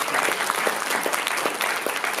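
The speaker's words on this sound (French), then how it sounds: "je pense qu'on peut les applaudir" Audience applause at a solidarity evening in support of Pinar Selek, held at the Paris Hôtel de Ville; dense, steady clapping from a large room fills the whole stretch without letup.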